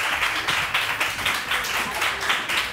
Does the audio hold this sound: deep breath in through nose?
no